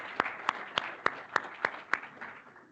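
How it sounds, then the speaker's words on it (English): Sparse applause from a small meeting audience, about seven distinct claps in a slow, fairly even rhythm that fades out after a couple of seconds, moderately close and heard alone. "let's give them a round of applause"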